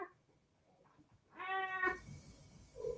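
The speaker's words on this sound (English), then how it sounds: "There's a cat making a noise." A cat lets out a single drawn-out meow, fairly clear against a quiet indoor room, followed by a faint trailing cry.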